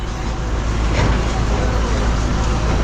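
A bus engine rumbles steadily and loudly close by at Sangameshwar, a continuous low roar with road noise as the vehicle pulls away.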